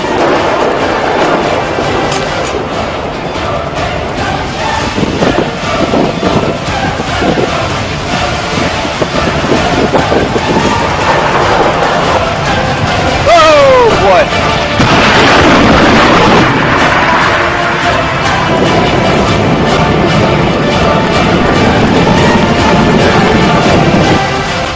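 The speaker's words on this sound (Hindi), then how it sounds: "बादलों की तेज गड़गड़ाहट" Loud, continuous rumbling of thunder, deep and broad with wind-like roar and rolling surges lasting over twenty seconds.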